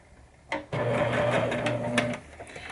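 A sewing machine stitches a fabric Easter bag, the motor starting abruptly and running in a steady, close whir for about two seconds before easing off.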